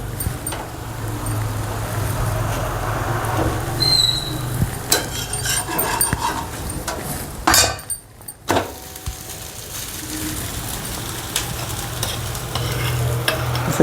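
Cucumber thalipeeth roasting in a pan gives a soft, steady sizzle, broken by a few sharp clinks and scrapes from handling midway.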